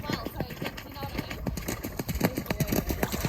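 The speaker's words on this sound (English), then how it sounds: "here comes the horses again" Horses clip-clopping past on a road, a quick irregular run of hoof strikes close by, with a person talking over them.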